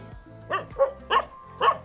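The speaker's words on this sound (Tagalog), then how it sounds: "maraming aso" Several dogs bark in quick succession at a rural spot in Liwliwa, Zambales, giving four sharp, fairly close barks spaced about a third of a second apart, with no talking.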